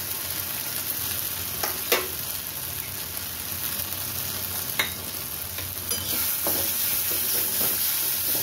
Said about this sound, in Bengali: আমার মশলাটা অনেকটাই ভাজা ভাজা হয়ে এসছে, গা দিয়ে তেল ছেড়ে দিয়েছে